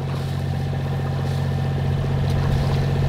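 A motorboat engine drones steadily while the boat cruises through the Blekinge archipelago, a close, continuous low hum with water rushing alongside and no speech.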